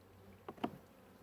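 Honey bees around open hive frames give a brief, faint buzz, a couple of short close passes over low background hiss.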